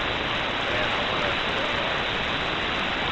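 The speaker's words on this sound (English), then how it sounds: "It's raining now." Steady rain falls outdoors during a stormy week as a dense, even hiss of drops that stays constant and fairly loud throughout, with no voices.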